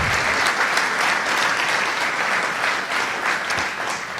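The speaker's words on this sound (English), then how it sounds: "Every single one of them deserve a very large applause" A large audience at a vocal harmony competition applauds competition performers in a loud, dense, continuous wash of clapping that holds steady throughout without any speech over it.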